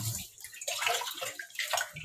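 Oranges, pears and apples being soaked and washed in a basin of water, with close splashing, sloshing and dripping in uneven bursts, no talking.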